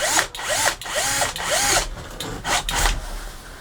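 A 1.5mm steel drill bit bores into the ignition barrel of a MK2 Volkswagen Golf, the drill whining in several short, close bursts with brief gaps between them.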